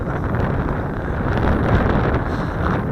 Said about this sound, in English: We got lots of wind here, and that's because of the wind.